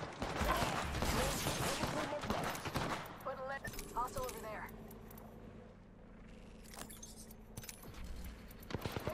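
A loud, rapid burst of gunfire rattles through an Apex Legends match at the start, then gives way to quieter game sounds with a few scattered shots, while a voice talks over it.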